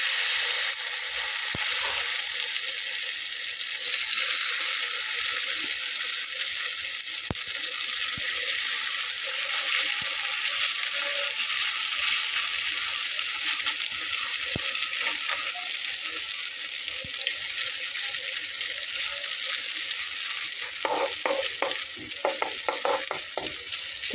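Cumin and small spoonfuls of batter fry in hot oil for a Bengali breakfast snack, a steady, loud hiss and crackle of sizzling oil throughout, with a few brief clinks and scrapes near the end and no talking.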